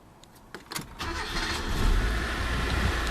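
1988 Ford Festiva engine starting: a brief whirring crank, then the small engine catches and settles into a steady low idle, close and clear with no talking.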